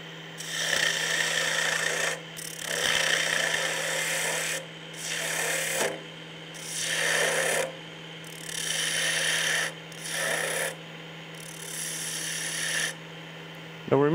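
A new wood lathe turns a thin hollow wooden sphere, about 1/16 inch thick, giving a loud, steady raspy rubbing and whirring with a constant hum beneath, broken into several bursts separated by brief quieter gaps.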